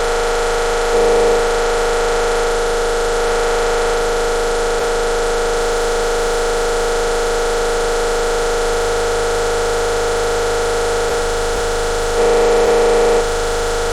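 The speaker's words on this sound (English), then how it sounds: "using Prisma or some sort of multi-band distortion to saturate the sound" A sound-design layer run through multi-band distortion such as Prisma becomes a loud, dense, saturated drone with a buzzing, noisy edge, holding steady for about fourteen seconds with slight swells near the start and end.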